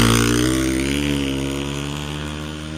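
A dirt bike rides past doing a wheelie, its engine a loud, steady buzzing drone that slowly fades as it moves away, with no talking.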